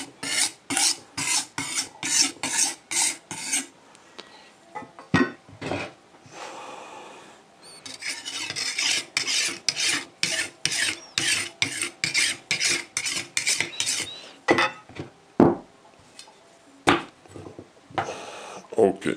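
A kitchen knife dragged repeatedly across a sharpening stone, giving a steady run of short, loud rasping strokes with brief pauses between passes and no voices.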